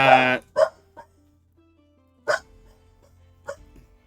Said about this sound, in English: There's a dog in the library.